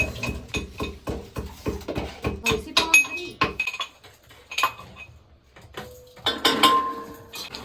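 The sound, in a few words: washing rice in a vessel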